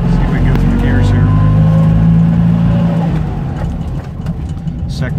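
A Fiat 500 engine accelerates through the gears from inside the car, loud and droning with a rising pitch before easing off after the upshift, the engine noise dropping back toward a quieter hum.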